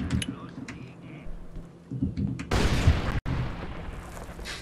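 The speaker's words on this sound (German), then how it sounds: "Irgendwas ist explodiert." A loud explosion booms in the first-person shooter Far Cry 3 after a rocket launch, a sudden broadband blast that cuts off sharply and then resumes as a dense roar, following quieter game sounds.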